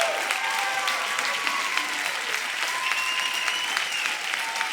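Steady applause from a church congregation fills the whole stretch, dense and continuous without pauses.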